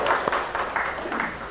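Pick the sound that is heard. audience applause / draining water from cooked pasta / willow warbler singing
audience applause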